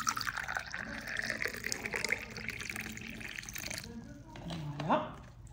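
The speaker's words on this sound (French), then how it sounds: "Vous mettez un seul sachet avec de l'eau bouillante." Boiling water pours steadily into a cup over a single tea bag, a continuous close liquid stream that eases off near the end, with a voice talking over it.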